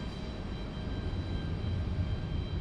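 An American Airlines Airbus A319 arriving at Raleigh-Durham from LaGuardia makes a steady, broad jet roar with a low rumble that stays at a fairly even level throughout, heard alone with no talking.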